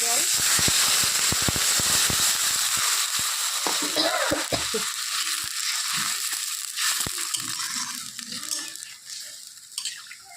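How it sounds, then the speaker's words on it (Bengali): Masoor lentils frying in a pan, with a dense steady sizzle and crackle and frequent sharp pops and stirring scrapes. A voice talks faintly underneath. "ডালটা ভাজা হয়ে গেছে একটু ভাজতে হবে এই এক মিনিটের মতো"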